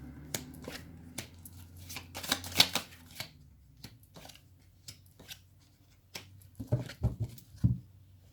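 Oracle cards are shuffled in quick riffling bursts with soft taps and slaps between, close and crisp against a faint low hum.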